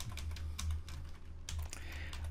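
Quick, uneven clicking of keys on a computer keyboard, steady and close but fairly quiet, with no voices.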